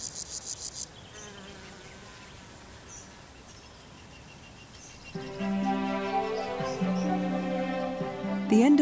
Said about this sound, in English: The meadows are positively teeming with mating insects.